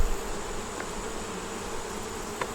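Honey bees buzz steadily at the hive, a continuous close drone filling the moment with no voices.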